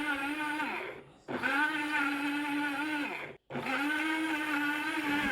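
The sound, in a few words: blender sold as a coffee grinder running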